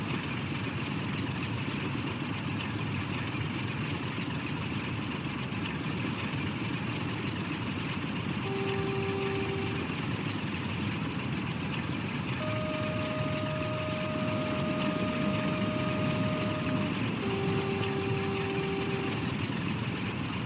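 A steady low locomotive engine drone hums throughout in Train Sim World 6, with a few brief tonal beeps and a longer horn-like tone sounding partway through.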